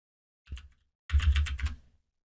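Computer keyboard typing in a quiet room, heard as a brief cluster of key clicks followed by a longer, denser burst of rapid keystrokes lasting about a second, close and clear with no voice.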